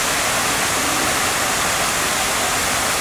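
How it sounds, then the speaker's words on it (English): Waterfall at Cabana Bay Beach Resort beside the lazy river, a steady, loud broadband rush of falling water that fills the whole moment without a break. "There's a waterfall."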